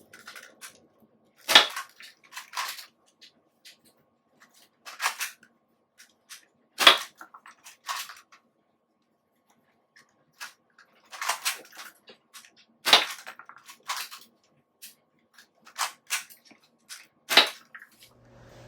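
Air Warriors foam darts fired from a toy blaster, sharp pops repeating every few seconds, each one followed by a short rattle of the dart landing or hitting something, with quiet gaps in between.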